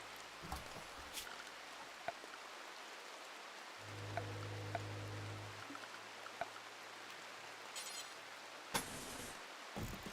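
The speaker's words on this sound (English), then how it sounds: "It's raining right now." Rain falls in the video game Rimworld as a faint, steady hiss of drops with a few soft ticks, and a low hum rises briefly partway through.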